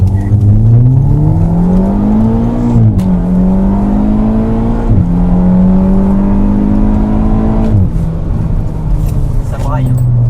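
A loud Audi S3 accelerates hard from inside the car, its engine note climbing steadily and dropping sharply at each of three gear changes, with a voice talking over it.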